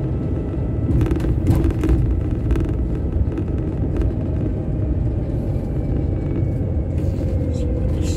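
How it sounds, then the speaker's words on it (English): A truck pulling out and driving off, a steady low engine rumble that stays fairly loud and even throughout with no talk. "Let's see what this truck's doing up here. He's coming out."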